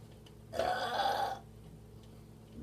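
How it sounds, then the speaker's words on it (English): A woman burps once, a loud, rough, buzzing eructation lasting under a second, close to the listener, with quiet room tone around it. "Not easy just to burp."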